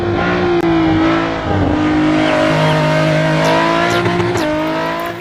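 Engine revving of a toy race car, a loud steady motor drone with sustained rising and falling pitch for several seconds, alone without talk.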